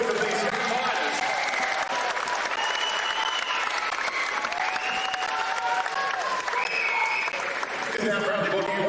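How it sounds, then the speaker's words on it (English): Crowd applause for two young fighters at a Muay Thai event, sustained dense clapping and cheering from a large audience, with an announcer's amplified voice talking over it throughout. "can we get a big round of applause for both of these young fighters?"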